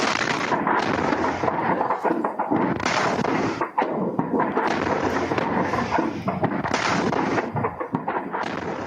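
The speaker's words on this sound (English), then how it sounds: "You're looking at new video from Syrian TV showing U.S. cruise missiles hitting the Syrian airbase late last night." Heavy explosions and rumbling blasts from U.S. cruise missiles striking a Syrian airbase at night, loud and dense throughout, with repeated swelling booms and crackling bursts and no clear gaps.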